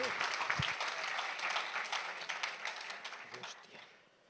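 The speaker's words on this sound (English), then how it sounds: "Give a round of applause" Audience applause welcoming two speakers onto a tech conference stage, a dense wash of clapping that stays steady and loud before thinning out toward the end.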